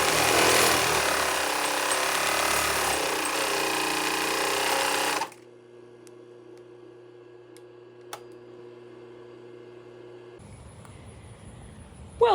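A sewing machine stitching heavy tent canvas for a 1948 A.J. Higgins tent trailer, running loudly and continuously for about five seconds before stopping abruptly, leaving a faint hum and a single small tap.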